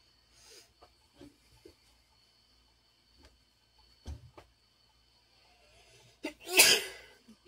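A single loud sneeze bursts out near the end after several seconds of quiet, scattered rustles and clicks.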